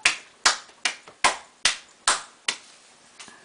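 A small child claps, about seven crisp, evenly spaced claps close by that grow slightly softer toward the end, with no voices.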